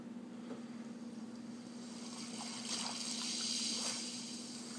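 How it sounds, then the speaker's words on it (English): Gentle waves play from a sleep app's soundscape as a soft, steady wash of water with a constant low hum beneath, faint and even throughout. "And, you know, gentle waves."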